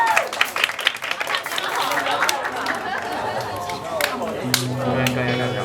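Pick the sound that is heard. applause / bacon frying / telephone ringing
applause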